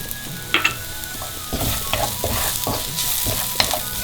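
Ginger, garlic and chili flakes fry on a high flame for a chicken stir fry, giving a steady loud sizzle with a few sharp crackles and stirring scrapes throughout, no talking.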